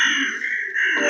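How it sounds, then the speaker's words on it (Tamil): A crow caws in the horror video game Death Park 2, a close, loud, continuous call that fills the moment with no talking. "இந்த காக்கா வர கேன்னு கத்திட்டே இருக்குது."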